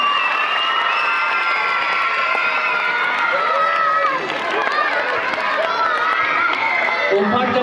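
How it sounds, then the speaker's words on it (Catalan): At a primary school spring festival, a dense crowd of children and adults cheers, shouts and claps continuously, a loud sustained roar of voices filling the space. "un fort aplaudiment"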